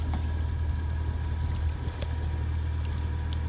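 A boat's engine runs at idle on the way into Kalathos bay off the northeast coast of Rhodes, a steady low rumble with wind buffeting the microphone, continuous and fairly loud, with no talking.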